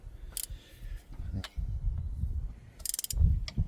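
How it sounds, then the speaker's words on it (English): A hand ratchet clicks in short bursts while carburetor bolts are loosened from the intake of a Vortec 350 engine, with irregular clatter and metallic handling noise between the bursts. "Start pulling the bolts that attach it to the intake."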